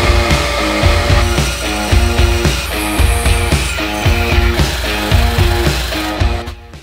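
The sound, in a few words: sawing a hammer handle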